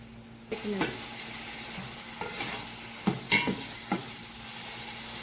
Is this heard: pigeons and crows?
no